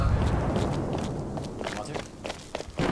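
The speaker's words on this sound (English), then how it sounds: "I heard his footsteps." Footsteps thud outside a house in the survival game Rust, a steady run of soft, muffled steps over loud rumbling game noise that grows sharper and closer toward the end.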